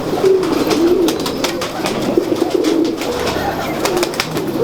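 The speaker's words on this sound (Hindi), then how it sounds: "पसंदीदा कबूतर को शौक करते हैं" A prized pigeon from Lahore coos close by in repeated low, throaty phrases, over a busy background of wing flaps and other birds.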